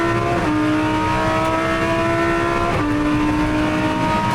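A Lamborghini GT3 race car drives hard on a circuit, its engine a loud, sustained close-up roar that drops briefly at a gear shift before rising again.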